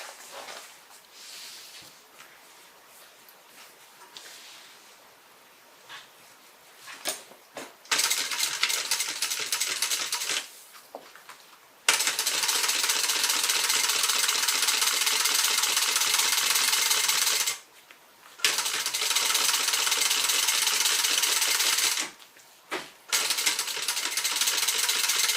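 A sewing machine top stitches a tote bag, with long loud stretches of fast, steady mechanical whirring and needle chatter broken by short pauses and quieter handling between runs.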